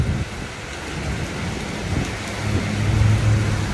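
Heavy rain pours steadily in Malaysia, with a low rumble of thunder swelling near the end. The downpour is loud and constant, and no one speaks.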